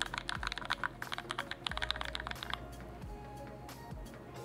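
Rapid clacking keystrokes on a tiny 30% mechanical keyboard with an aluminum case, a dense run of close, crisp clicks that thins toward the end, with no talk.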